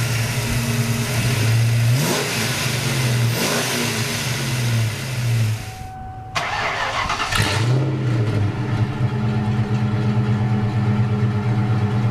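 A 1995 Ford Mustang GT with a 5.0 V8 revs loudly up and down through its exhaust, rising and falling in repeated pulls, with a brief quiet dip and a sharp burst before steady rumbling revs resume, no talking.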